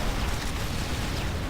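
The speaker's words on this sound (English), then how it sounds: "Run away and then turn around and look at lovely explosion." A massive blast of demolition charges leveling a building in the video game Red Faction: Guerrilla, a dense, sustained roar of rumbling debris at steady loudness, heard alone without any voices.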